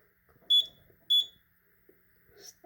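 A Simplex fire alarm panel gives two sharp, high electronic beeps about half a second apart as alarm verification starts, loud and close in an otherwise quiet room.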